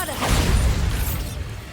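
A Bombarda explosion spell goes off in the Hogwarts Legacy video game as one short, loud, full-bodied whooshing boom that fades quickly, with no talking.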